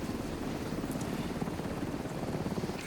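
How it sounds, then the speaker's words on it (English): A video game helicopter's rotor thumps steadily and fairly quietly, a continuous chop with no other sounds over it. "Get to the chopper."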